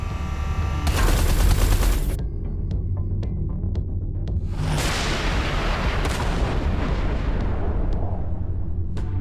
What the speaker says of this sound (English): Watch out! The artillery!